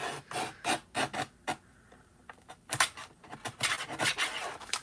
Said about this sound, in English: I'm gonna trim this side just so you see it